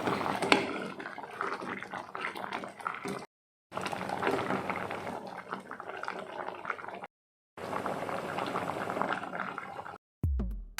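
Green peas curry bubbling in a pan on the stove in a Kerala kitchen, a busy simmering boil heard in three stretches separated by brief silences, fairly close, with a thump at the end.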